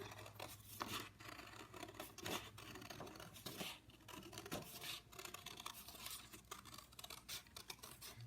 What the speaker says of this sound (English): Trace that with the pencil. And then I'm going to cut that out really quickly.